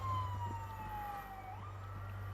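Ambulance siren in the video game World War Z Aftermath, a faint wailing tone sliding slowly downward and then rising again, heard at a distance over a low steady rumble.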